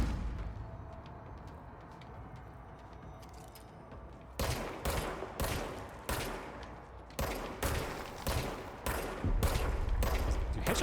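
Service weapon gunfire in the game Control: after a few seconds of steady low ambient noise, a run of about eight sharp, loud shots fires in quick irregular bursts over a constant background rumble.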